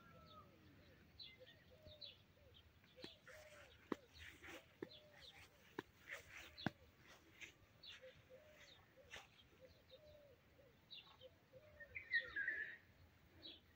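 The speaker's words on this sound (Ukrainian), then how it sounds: "Ой, соловейку співає." A nightingale sings in a Ukrainian decorative garden, faint and distant, with scattered chirps and trills and bursts of sharp clicks, plus some cooing birds in the background over a quiet outdoor hush.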